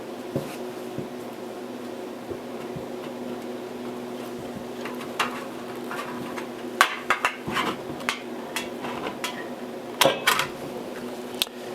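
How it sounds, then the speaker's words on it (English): Tin snips cut through copper sheet with a few crisp metallic clicks and crunches, mostly in two brief clusters, over a steady low background hum. "cut it with the tin snips"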